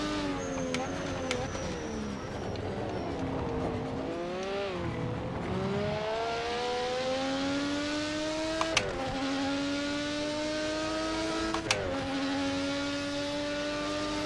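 A race car engine in a racing video game, running at Bathurst, screams steadily through high revs with repeated gear shifts marked by sharp ticks, while someone talks over it.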